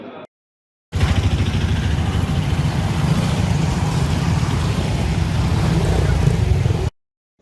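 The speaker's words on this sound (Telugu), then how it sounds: "అధికారులు బైక్ ర్యాలీని నిర్వహించారు." Motorbikes ridden by forest officials in a rally near a forest range office, a continuous engine drone that starts abruptly, holds steady and loud for about six seconds, then cuts off.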